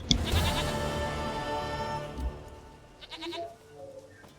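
A goat bleats in The Witcher 3 game: several wavering, nasal bleats up close over a busy musical and ambient game bed, fading into softer chirps and background sounds.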